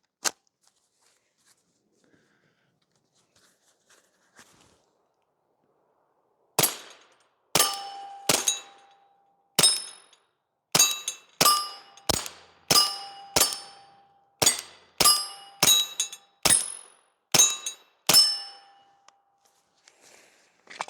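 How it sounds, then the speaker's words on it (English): Pistol fired through a compact Omega 36M suppressor: after a quiet start, about fifteen sharp suppressed shots ring out in a quick, fairly even string, each with a short metallic ring, close and loud. "This is now with the smaller suppressor."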